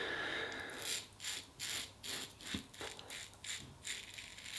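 Close, scratchy rasping of a Rockwell Model T adjustable double-edge safety razor shaving skin, a series of short strokes, about eight in under five seconds, with no talking.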